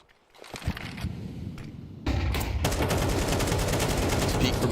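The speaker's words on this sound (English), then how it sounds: "The Tech-9 tries to gun him down." Rapid Tech-9 pistol gunfire in a Counter-Strike esports match, a burst of sharp shots that grows into sustained, dense firing and close, loud impacts, with brief faint voices earlier.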